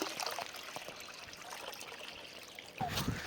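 Water trickles and pours softly into a clay pot set out for birds to drink, a steady faint dribble that swells briefly louder near the end.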